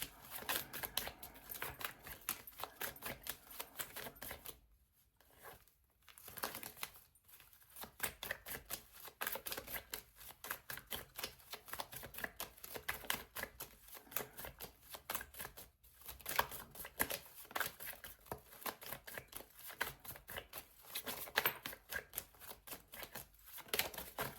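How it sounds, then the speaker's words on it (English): A tarot deck shuffled at length, with rapid, continuous crisp card flicks and riffles and a few short pauses, then cards pulled out, close and moderately quiet with no talking. "Can we have 5 cards from this deck?"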